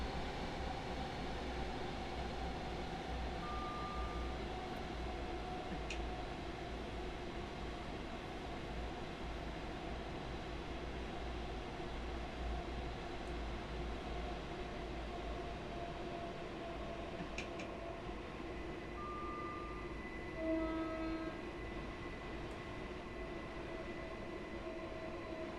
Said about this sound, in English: 377 just leaving the station here.